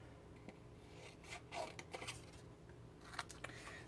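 Scissors snip through paper while cutting out cloud shapes and a phrase for a teacher's treat box, faint scattered cuts and rustles with quiet gaps, close by.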